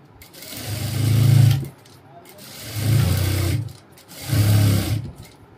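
A sewing machine stitches seams on a cap dress in three steady, whirring runs, each rising and stopping with short pauses between.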